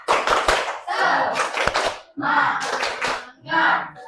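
A standing group of students in a classroom claps a rhythmic cheer in short bursts, several quick clap sequences separated by brief pauses, close and fairly loud.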